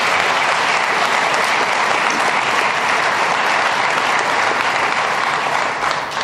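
A large audience at a New York State government event on harmful algal blooms bursts into loud, sustained applause that keeps a steady dense clatter throughout, with no talk over it, before easing slightly at the very end.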